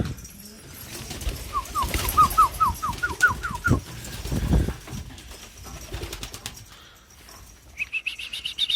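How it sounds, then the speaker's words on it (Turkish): Pigeons being taken out to fly on a sunny day, with close bursts of wings flapping, a quick run of chirps and soft cooing. Handling noises come between the calls, and more chirping rises at the end. "Ben hemen sizlere şu kuşları çıkarayım şöyle."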